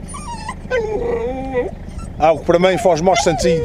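Hunting dogs on a rabbit hunt in São Miguel, Azores, whimper and yelp close by, with short whines and barks mixed among someone talking over them.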